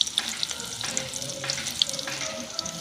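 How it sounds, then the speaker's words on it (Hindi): Garlic sizzles as it is tempered in hot oil in a wok, giving a steady, moderately loud frying hiss with small crackles and pops, and no talking over it. "अब तेल डाल ले हम संगवारी हो। अब लहसुन के फ़ौरन देता हूँ मैं।"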